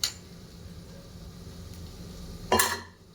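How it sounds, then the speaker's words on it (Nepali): Rajma being stirred in a cooking pot, soft scraping and shuffling of beans with a sharp metallic clink of the spoon against the pot near the end, close and fairly quiet. "अब चाहिँ राजमालाई पनि मजाले मिक्स गर्दै छु म चाहिँ।"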